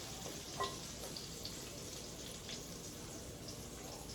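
Pork chops dusted with cornstarch fry quietly in a pan, giving a soft, steady sizzle with a few faint pops and clicks.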